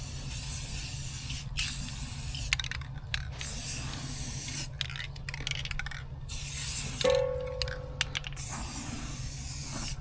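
Aerosol spray can laying black paint on a Suzuki Samurai chassis in a workshop, several hissing bursts of varied length with short pauses, over a low constant background hum.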